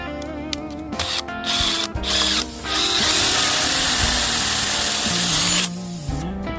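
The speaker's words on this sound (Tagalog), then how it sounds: "Lakihan natin ng butas. Drill natin." A power drill whirs steadily as it bores out and enlarges a puncture hole in a car tire for plugging, with short starts and stops at first before a sustained, loud run that then winds down.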